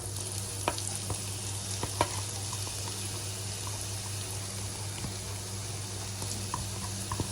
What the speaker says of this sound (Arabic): اول لما الزبده تسيح هنزل ببصلايه كبيره كده